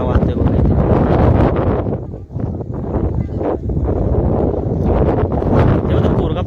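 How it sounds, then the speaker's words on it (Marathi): Strong wind roars by the water with waves on a mountain trek near Korigad fort, a dense, steady gusting rush that buffets the microphone and barely eases, while people talk over it. "ते पूर्ण किती भयानक वारा वाहतोय बघ इथे"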